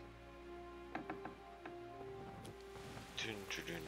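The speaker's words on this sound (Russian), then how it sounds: "Еще и дождь идет." Rain falls in the medieval game Kingdom Come: Deliverance as a soft, continuous patter, with scattered light clicks and knocks over it.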